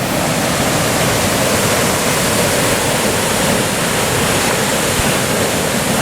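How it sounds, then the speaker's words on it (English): Water cascades below Lower Yosemite Falls in a steady, loud, broadband roar that rushes continuously without pause and dominates the whole scene. "Cascades before lower Yosemite Falls."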